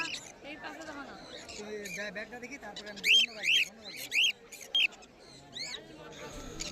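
Conure parrots, including pineapple, yellow-sided and green-cheeked types, at a pet bird market in Uluberia give a few sharp, shrill squawks in quick succession midway, heard over steady market chatter and talking.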